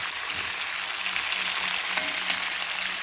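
Pork sizzling steadily in a pot while being stirred during a home pig slaughter, a continuous close hiss of frying fat with faint scraping and no voices.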